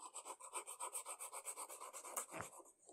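Rough P60 sandpaper is rubbed back and forth over a small wooden bow tie, making a steady run of about twenty close, even rasping strokes that ends in a brief scrape, with no talking.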